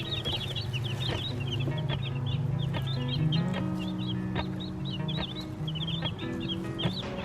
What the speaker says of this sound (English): I've got baby chicks.